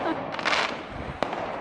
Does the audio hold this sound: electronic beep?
no